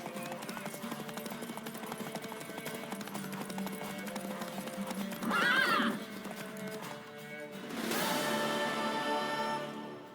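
A horse in the video game The Witcher 3 gives a whinny partway through and a louder neigh near the end, over soft game music and ambience.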